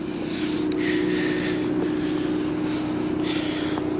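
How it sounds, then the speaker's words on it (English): A 2016 Monaco Trek 26HM Class A motorhome engine idles steadily with a constant low drone, close by, accompanied by some wind noise. "I'll go ahead and crank that motor up now."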